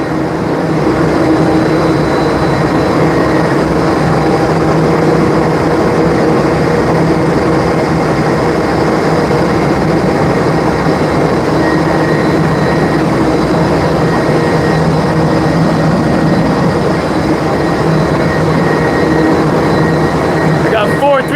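Four 350 horsepower fans roar continuously in an indoor skydiving wind tunnel, a loud, steady, droning rush with low rumbling hum that stays constant, while someone talks over it.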